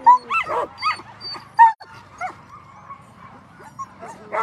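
Sled dogs waiting at the start of an Alaska sled dog race in Willow bark, yip and whimper in short, excited bursts, several dogs close by and overlapping.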